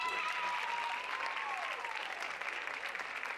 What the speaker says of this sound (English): Another round of applause for our PMEA ensemble members